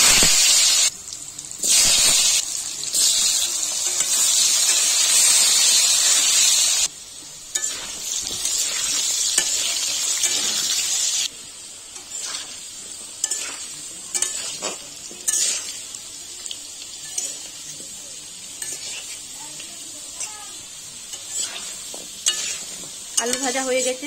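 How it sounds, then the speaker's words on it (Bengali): Potato pieces fry in hot oil, a steady loud sizzle and hiss that runs continuously, with scraping stirs and brief dips in intensity along the way. "এবার আলুগুলো ভেজে নেব।"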